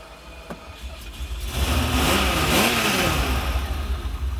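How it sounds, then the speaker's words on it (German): A roughly 40-year-old Ferrari 512 BBi with a 5-litre V12 cranks briefly, then catches and revs up into a loud, rising engine roar that holds close and strong to the end, with no talking. "Und jetzt bin ich mal mega gespannt, wie so ein 40 Jahre alter V12 klingt."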